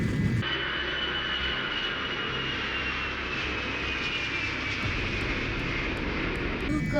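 An Azal Avia Cargo aircraft's engines roaring at full takeoff power, a loud steady drone with a sustained high whine that holds without a break throughout.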